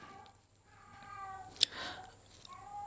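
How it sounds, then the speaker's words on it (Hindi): A cat meows a few times nearby, drawn-out cries over a quiet indoor background with no one talking. "ये देखिए बिल्ली का आवाज आ रहा होगा तो उसको इग्नोर कीजिएगा"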